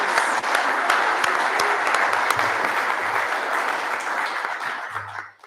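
Audience at an Australia Day ceremony applauding student citizenship nominees, a sustained dense round of clapping from many hands that holds steady and tapers off near the end.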